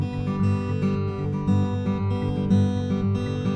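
Acoustic guitar fingerpicked in a pinch pattern, with the final note of each figure filled in rather than left out; steady, close and moderately loud rhythmic picking with ringing low bass notes, played alone without talk.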